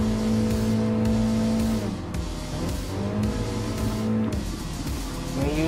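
Engines of race cars in Gran Turismo Sport, including a Mini Cooper S, drone loudly and steadily with repeated shifts in pitch as the cars accelerate and jostle through an overtake, with no talking.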